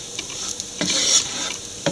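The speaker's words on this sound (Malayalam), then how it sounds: "മുട്ടയിൽ മുക്കി ബ്രെഡിൽ മുക്കി നമുക്ക് വറുത്ത് കോരിയെടുക്കാം" Egg-and-breadcrumb-coated beef cutlets deep fry with a steady close sizzle, broken by a few brief scraping and stirring sounds, and no voices.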